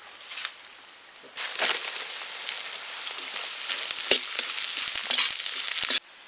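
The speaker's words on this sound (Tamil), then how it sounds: "நறுக்கி வச்ச பெரிய வெங்காயம் போட்டுக்கலாம்." Chopped large onions hit hot oil and start frying with a sudden loud sizzle, then keep hissing steadily with occasional stirring scrapes, close up.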